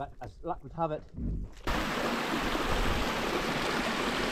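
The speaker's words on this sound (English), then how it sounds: "Nice wee waterfall here, so nice cool water." A small waterfall on a stream in the wilds of Assynt rushes loudly and steadily, taking over after someone speaks briefly at the start.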